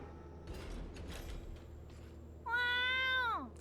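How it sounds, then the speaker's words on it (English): A cat gives one clear, loud, drawn-out meow in a robot-piloting video game, preceded by quiet mechanical clatter and background game sounds. "Cat wants to pilot the robot."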